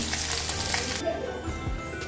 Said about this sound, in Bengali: আমি এদিকে মাছ ভেজে নিয়েছি